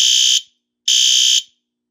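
A fire alarm sounder base on a smoke detector blares two loud, piercing electronic tones, each about half a second long, separated by a short silence, close and alone.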